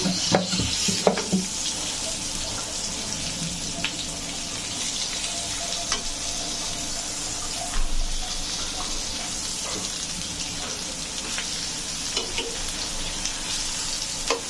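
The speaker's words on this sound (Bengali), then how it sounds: "দেখেন তো মিষ্টি কুমড়া ভাজাটা কেমন হচ্ছে, বাদামি বাদামি হয়ে গেছে না?" Constant sizzling of pumpkin frying in a pan, broken by occasional clinks and stirring sounds, with no one talking.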